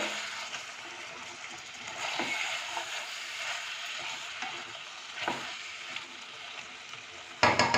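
Spiced mutton curry being sautéed in a pan, with a steady loud sizzle and frying crackle throughout, plus occasional scrapes and stirring clatters of a spoon against the pan.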